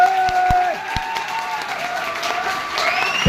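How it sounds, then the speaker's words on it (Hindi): Seminar audience applauding a speaker at a direct-selling event, a moderately loud stretch of clapping and crowd noise mixed with sharp knocks and ringing tonal sounds, with some voices mixed in. "मैं चाहूंगा कि गुरुदेव महिपाल सर के लिए जोरदार तालियां"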